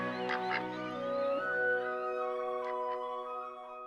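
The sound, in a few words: domestic ducks quacking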